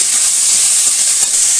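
Spices with ginger, cumin and chili, together with cauliflower, sizzle and fry in a pan in a village kitchen, giving a loud, steady hiss with faint stirring underneath.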